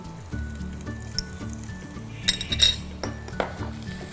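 Ginger and garlic are stirred in a pan with a utensil, giving a few scraping clinks and metallic taps over a soft sizzle and steady background music.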